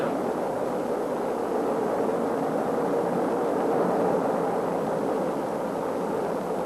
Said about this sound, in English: Ignition. Start. Liftoff.